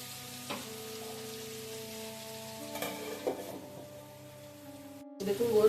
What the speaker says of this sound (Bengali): এগুলো তেলেই ভাজবো